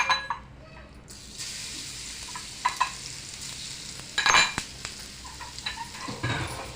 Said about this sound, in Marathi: गरम तवाचा आहे भाकरीचा त्याच्यात आपण तेल घालून घ्यायचं आहे आणि त्याच्यामध्ये लसूण टाकायचं